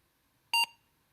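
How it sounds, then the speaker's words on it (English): A single electronic beep from an old home computer as BASIC program line 770 is listed, a steady two-tone chirp lasting about a tenth of a second, clear and close in an otherwise quiet room. "because now when you list 770, it beeps at you"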